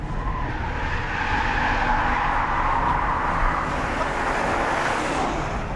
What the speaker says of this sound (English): the Jaguar XFR-S is not all about shredding the rear tyres in third gear at 65 miles an hour